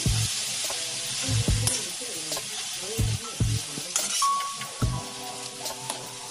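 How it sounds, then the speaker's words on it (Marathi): Fenugreek leaf vegetable being stirred on a hot griddle, with loud sizzling and repeated spatula scrapes and knocks against the metal, no talking. "थोडं वर खाली करून घेते भाजी, म्हणजे सर्व डाळ एकत्र होईल।"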